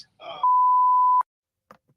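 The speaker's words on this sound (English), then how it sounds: "So they're bleeping out his phone number." A single steady censor bleep of about three quarters of a second covers a spoken phone number on police body-camera audio, with brief speech just before it and faint speech fragments after.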